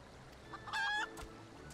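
A chicken in Final Fantasy XIV gives one short, squawking cluck against a quiet background, brief and fairly clear.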